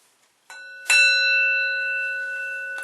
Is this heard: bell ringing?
yes